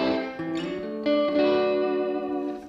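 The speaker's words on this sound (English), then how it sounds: "I'm running it through a Keeley Memphis Sun pedal, which gives us that cool reverb and delay of those kind of early 50s studios." A 1968 Gretsch 6120 Chet Atkins Nashville electric guitar played through a Keeley Memphis Sun pedal, with short picked phrases bathed in slapback delay and reverb, ringing clearly on its own.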